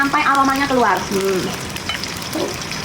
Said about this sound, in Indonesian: Kalian goreng sampai harum, sampai aromanya keluar ya